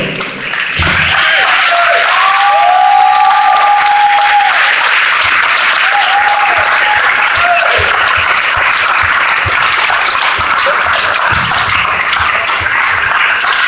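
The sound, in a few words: applause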